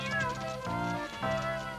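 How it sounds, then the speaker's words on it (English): Cats meow in a children's animated story, three close, clear meows one after another with short pauses, and nothing else heard. "Then all the cats ran by."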